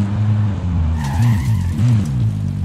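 A car's tires squeal and skid under braking in the shooter Call of Duty: Warzone, a loud screech over a heavy, rumbling engine drone, short and close.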